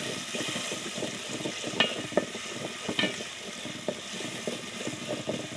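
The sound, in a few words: chopped onion, ginger, garlic paste and green chili frying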